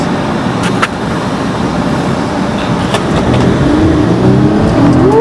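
A car engine hums steadily from inside the cabin, then rises in pitch as the vehicle accelerates toward the end.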